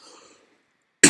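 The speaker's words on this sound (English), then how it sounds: "Been getting a little bit of a cough." A single sharp cough bursts out at the very end, loud and close, after a moment of near silence following faint trailing speech.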